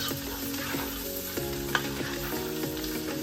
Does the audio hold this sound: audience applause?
no